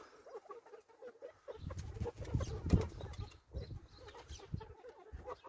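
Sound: chickens clucking

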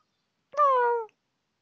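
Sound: cat meowing

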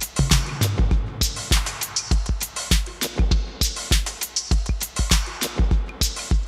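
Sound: electronic drum track layered with extra rhythm and delay

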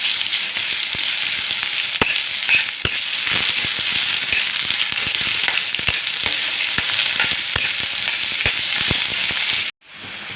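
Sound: onion frying in oil

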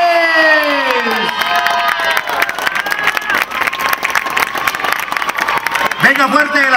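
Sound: crowd applauding and cheering at a school dome inauguration

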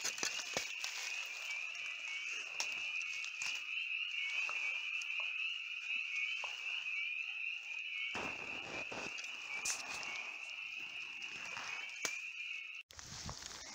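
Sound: spring peepers (frogs) calling at night

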